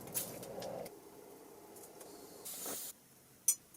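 An aerosol spray can hisses in short bursts as metal pieces are joined in a van workshop, the sprays faint and intermittent between quiet gaps.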